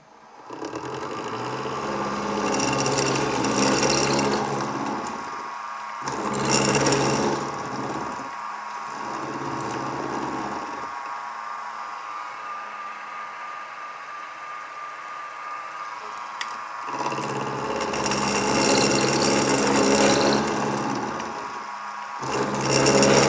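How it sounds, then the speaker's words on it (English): A milling machine finishing the conrod for a Stuart half beam steam engine, a loud steady motor whine with cutting passages that start and stop, dropping to a quieter hum in the middle before cutting resumes. "And now I'm going to finish it off by milling"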